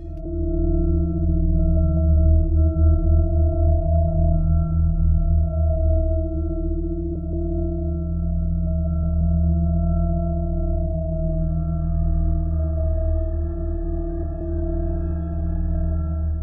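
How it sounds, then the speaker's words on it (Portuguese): Eerie NASA spacecraft recording of outer space sounds from a craft travelling around the Solar System: steady layered humming tones that drone continuously and evenly, with a faint pulsing low rumble and a higher tone entering near the end. "Este é o som do espaço sideral gravado pela NASA com uma nave espacial viajando ao redor do"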